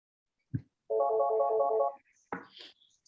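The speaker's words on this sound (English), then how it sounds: "I still don't know how to mute my phone." A mobile phone rings during a public committee meeting, giving one loud tonal burst of about a second between soft thumps and clicks.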